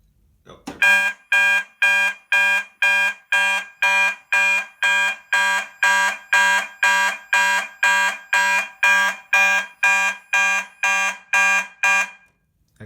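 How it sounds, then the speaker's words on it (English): A fire alarm panel set off by test smoke sprayed on a detector sounds in loud, regular pulsing tones, about twenty identical electronic blasts in a steady rhythm, then cuts off abruptly when silenced. "the alarm is now silenced"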